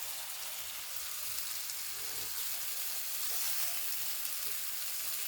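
Okra and dried prawns frying in a hot pan, a steady, even sizzle with faint crackle, close and continuous with no talking.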